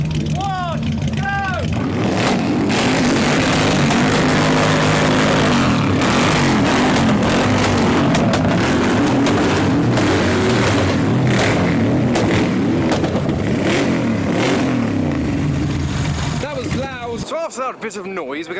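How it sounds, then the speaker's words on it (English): A Ford Mustang fitted with a Mercedes E63 engine and a V8 Mercedes rev hard together in a rev battle at a car show. The loud, sustained roar surges and falls, crowd voices sit underneath, and it cuts off abruptly near the end. "have just started up their E63 powered Mustang and their V8 Mercedes to do their own little revolution competition"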